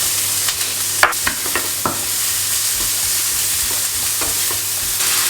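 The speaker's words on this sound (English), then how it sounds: "we've got one onion that's been chopped up, and that's going straight into the pan, along with two little segments of garlic" Chopped onion and two garlic cloves fry in oil in a pan as the base for an Italian tomato sauce, giving a steady close sizzle broken by a few sharp stirring scrapes and clicks, with no talking.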